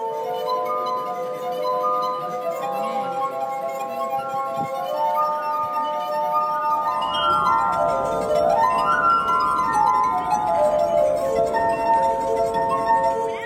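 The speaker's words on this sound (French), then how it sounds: "Cet instrument est une harpe de verre ou un cristallophone. Il crée différentes notes en changeant le niveau d'eau dans les verres." Sustained ringing tones of a street glass harp, water-tuned glasses played continuously outdoors, several steady pitches with a sweeping glide in the middle, loud and alone with no talk.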